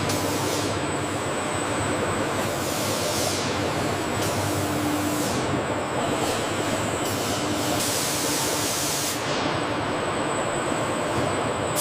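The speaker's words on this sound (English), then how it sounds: "Automated coating systems apply uniform protective layers, enhancing durability while preserving aerodynamic smoothness." An automated coating system sprays protective layers onto a Siemens Velaro high-speed train in a factory, a steady loud hiss that runs continuously without pause.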